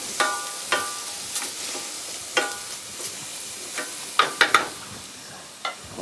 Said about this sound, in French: On va commencer donc par incorporer les oignons